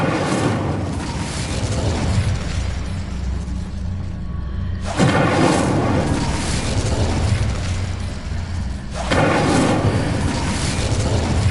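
A fire spell cast in the video game Hogwarts Legacy gives deep, booming explosive bursts that swell, break off sharply around five and nine seconds, then roar on loud and continuous, with no talk.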